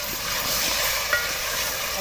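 Chicken frying with garlic ginger paste in a pan gives off a steady, close sizzling hiss that holds evenly throughout, with a faint stir or clink partway through.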